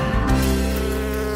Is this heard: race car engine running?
no